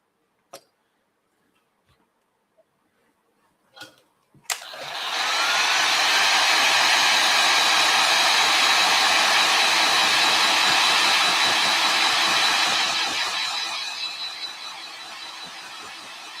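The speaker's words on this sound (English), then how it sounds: "I'll just hit this a little bit with the heat gun before I start painting it" A heat gun blows hot air onto a painted piece, rising to a loud, steady broadband whoosh that runs for about eight seconds and then tapers off, after a few faint clicks and taps.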